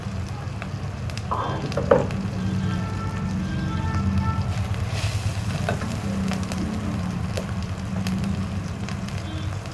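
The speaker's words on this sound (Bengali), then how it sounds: "এবারে এটাকে একটু ভালো করে ভেজে নিয়ে টমেটোটাও দিয়ে দিয়ে একসঙ্গে ভেজে দিচ্ছি" Tomato and whole cumin frying together in a pan for masala bread give a constant close sizzle with faint crackles and a small clatter near the two-second mark, steady throughout.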